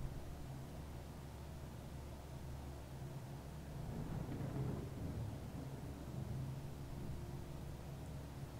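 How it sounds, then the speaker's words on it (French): Thunderstorm rumble in Microsoft Flight Simulator 2020 while flying a DR400 light aircraft, a low, steady roar with a gentle swell in the middle, no talking. "On entend bien l'orage."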